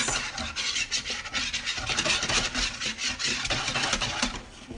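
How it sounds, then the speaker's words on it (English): Whisk scraping briskly through a creamy chowder soup mix and milk in a bowl, a steady rasping, rubbing texture that churns continuously and close up, with no talk. "So we just whisk that up."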